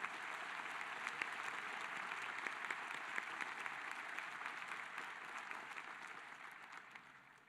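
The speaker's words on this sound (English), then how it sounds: "So please, a round of applause to Adrian Hartzell and the New Philharmonia" Steady audience applause fills a commencement ceremony hall, dense clapping holding level for several seconds before starting to taper at the end.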